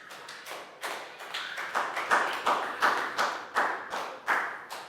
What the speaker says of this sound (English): a big round of applause for Plow